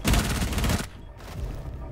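Dense burst of automatic gunfire in Rainbow Six Siege, loud and rapid for under a second, then fading into a lower rumble of continued game noise and distant shots.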